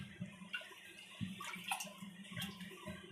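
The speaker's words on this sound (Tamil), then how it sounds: "பச்சை தண்ணியில் இதை டிப் பண்ணி எடுக்க போகிறோம்" Squeezed rasmalai chenna being dipped and swished in a bowl of plain water, soft splashing and gurgling sloshes close by, fairly quiet and intermittent.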